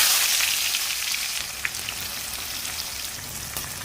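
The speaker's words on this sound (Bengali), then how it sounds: "এই তেলটাতেই আমরা পেঁয়াজটা লাল লাল করে অল্প ভেজে নেব" Chopped onions frying in hot oil, tossed in after bay leaf and five-spice tempering for an achari mutton curry, giving a steady close crackle and dense sizzling hiss with scattered sharp pops and no talk.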